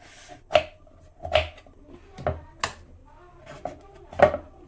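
Cluster fig tree bark being cut into pieces, heard as about six sharp, close chopping knocks spaced irregularly with brief quiet gaps between them.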